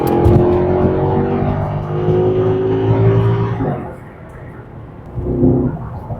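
A Mercedes-Benz W211 E63 AMG's naturally aspirated V8 sounds close and loud. A deep rising rev holds for several seconds, then drops back to idle before a short second blip.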